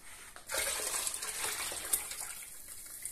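Water being poured into a container to mix a brine of coarse salt for cracked green olives, a steady close splashing gush after a short quiet start.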